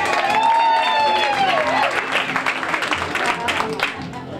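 Concert audience at the Carriage House in Sheridan, Wyoming breaks into applause and cheering, a steady wash of claps with a sustained whistle or voice at the start, fading into scattered clapping and crowd noise.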